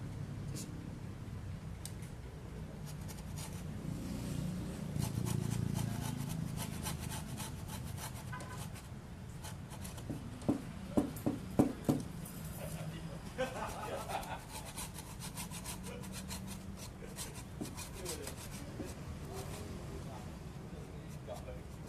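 A hand saw works through a ficus bonsai branch with steady rasping strokes, moderately close, while people talk in the background throughout.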